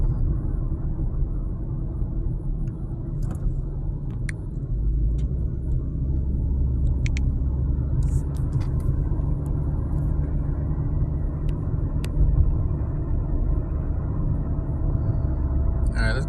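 A car drives along with a steady low engine and road rumble throughout, a few faint clicks and rattles from inside the cabin over the top.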